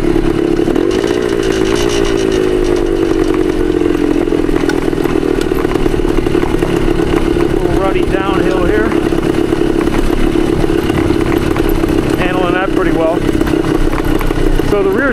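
A 1972 Yamaha DT2 enduro motorcycle rides along, its engine droning steadily and close with a pulling, low-end tone. Pitch sweeps mark the revs rising through the gears, with a rough, buzzy clatter throughout.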